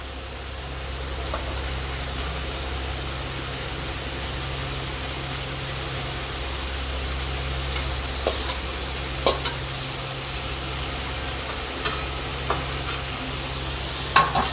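Potato pieces frying in spiced masala in a pan, a steady loud sizzle running throughout with occasional stirring scrapes and knocks near the end, close up and without voices.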